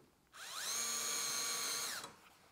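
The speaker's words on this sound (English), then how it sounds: "got my first hole drilled" Power drill boring a pilot hole for the screws of a Blum undermount drawer slide, a single close, loud whine that ramps up, holds steady for about a second and a half, then spins down, with no talk.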